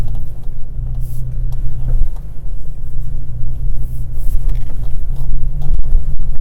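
A 2017 Toyota Tacoma TRD Pro truck crawls off-road in 2-wheel drive, giving a steady loud low engine rumble close by with faint rattles and bumps over the terrain.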